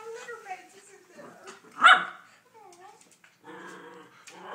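A puppy gives one sharp bark near the middle, with soft whimpers and yips around it, close by and mixed in with people talking.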